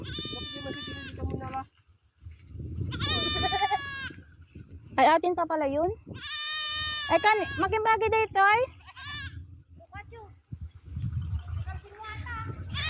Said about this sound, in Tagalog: Oh, andito na ang aming mga kambing.